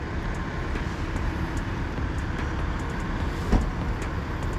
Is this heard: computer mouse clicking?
no